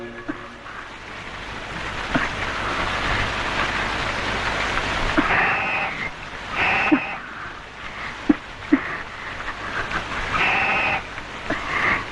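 Steady rain falling and pattering on surfaces outdoors, a continuous wash of noise with a few sharper drips and knocks standing out near the end.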